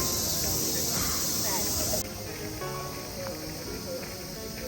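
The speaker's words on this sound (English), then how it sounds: "the sounds of cicadas chirping all around, the epitome of Japan in summer" Cicadas buzz all around at Meiji Jingu Shrine in Tokyo in summer, a dense, steady high-pitched drone that drops to a softer layer partway through, with faint birds and murmuring visitors behind.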